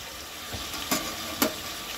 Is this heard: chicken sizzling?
yes